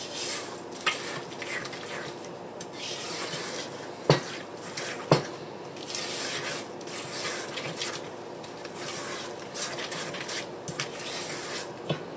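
A spoon stirs egg vigorously into brownie batter in a bowl, making continuous scraping and swishing with a few sharp clinks against the bowl, close and fairly quiet.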